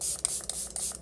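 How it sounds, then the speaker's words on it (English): Several quick pumps of a makeup setting spray misted onto a face, a rhythmic series of four or five short, close hissing spritzes with no talking. "I'm going to just take this new setting spray I got"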